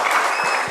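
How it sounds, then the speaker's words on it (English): Brief burst of audience clapping at a comic convention panel, a dense wash of hands that is short and fairly loud, with no voices heard over it. "Round of applause for Melanie Zanetti"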